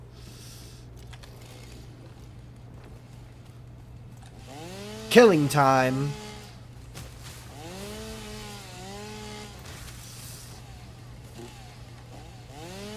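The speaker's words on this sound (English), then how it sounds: "Retractable chainsaw." A retractable chainsaw cuts down trees in a forest in the video game Satisfactory. A loud revving burst rises partway through, then softer whining sweeps repeat over a steady low hum while a person talks.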